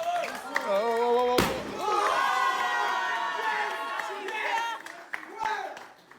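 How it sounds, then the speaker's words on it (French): A crowd cheers and applauds after a live show, a sustained burst of clapping and shouting with a sharp slam early on and voices mixed in. "Applaudissements, les gars."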